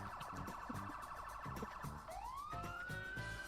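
Police-style emergency sirens blare continuously, a rising wail sweeping up over a pulsing yelp pattern, loud and close, used as a sound effect in a Dungeons & Dragons 5e Curse of Strahd tabletop role-playing game session.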